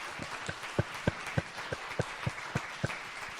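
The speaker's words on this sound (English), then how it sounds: "I would like to have a round of applause for our panelists." A small audience claps for panelists at the end of a talk, sparse and evenly spaced handclaps that sound thin and indoors rather than a full ovation.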